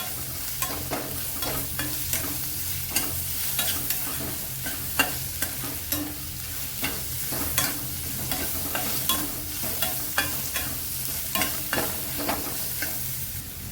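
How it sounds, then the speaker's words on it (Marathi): Ginger garlic paste, about a spoonful, sautéing in oil, a steady close sizzle punctuated by regular scraping strokes of a spoon stirring the pan. "आले लसण पेस्ट चांगली तेलावरती परतून घ्यायची आपल्याला"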